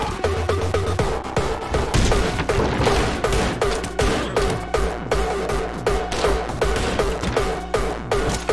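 Rapid bursts of gunfire from the video game Anger Foot, a steady run of repeated shots pounding over loud game music with booming impacts throughout.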